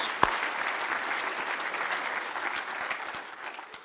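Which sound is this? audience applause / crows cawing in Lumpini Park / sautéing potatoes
audience applause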